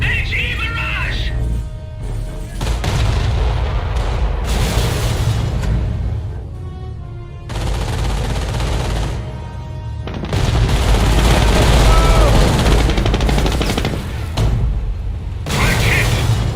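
A high-explosive artillery barrage in the Company of Heroes war game brings a series of heavy booms and crackling blasts in loud bursts, with short quieter gaps between them and battlefield voices mixed in.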